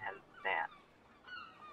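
Birds squawk at a beach in two short, goose-like honks, moderately loud and near, with a fainter call following.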